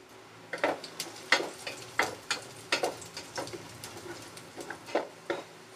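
Ginger slices frying in oil in a pan, with a steady low sizzle broken by repeated scraping stir strokes at an even rhythm, close and moderately quiet with no talking.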